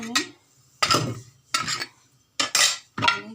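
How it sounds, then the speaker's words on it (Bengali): A metal frying pan (tawa) set down on a stove, several sharp clanks and knocks of metal against the burner spaced a second or so apart, close and fairly loud. "ফ্রাইং প্যানটা বসিয়ে দিলাম।"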